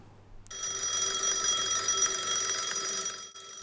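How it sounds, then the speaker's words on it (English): An alarm clock rings loudly and continuously in a shrill metallic bell trill, starting abruptly after a brief quiet moment and ringing on steadily before cutting off near the end. "Alarm clock."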